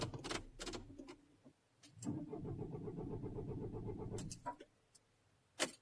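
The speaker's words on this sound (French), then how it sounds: "j'ai toujours la possibilité d'actionner le démarreur" A Citroën C4 Picasso 2.0 HDi with a fault cranks on its starter motor in a burst lasting about two seconds, framed by short mechanical clicks and knocks, fairly quiet and with no speech.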